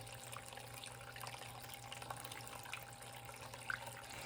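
Water gently washing paydirt during gold panning, a faint steady trickle and lapping with a few small splashes, quiet and continuous.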